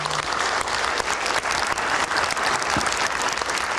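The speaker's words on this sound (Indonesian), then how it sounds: "Boleh kita berikan tepuk tangan?" Studio audience applause on a live Indonesian election-night talk show, dense continuous clapping from a crowd, loud and sustained with no talk over it.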